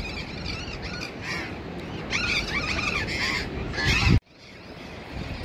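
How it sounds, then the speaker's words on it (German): Crows or similar large birds caw repeatedly in overlapping calls as a flock flies inland over the coast at sunset, loud and close against steady background noise, cutting off abruptly near the end. "Die Vögel, die verschwinden jetzt Richtung Landesinnere, die fliegen da irgendwo in die Stadt."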